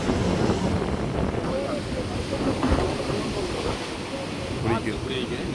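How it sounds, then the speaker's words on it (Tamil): A fishing boat approaching on rough sea waves, heard under strong wind buffeting the microphone, with someone talking over the steady roar. "இப்படி போட் வருது."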